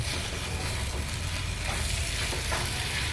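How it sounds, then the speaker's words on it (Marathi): Soybean chilli sizzling in a pan as coriander is stirred in, a steady close hiss of frying with faint scraping stir movements throughout. "कोथिंबीरला व्यवस्थित असं मिक्स करून घ्यायचा"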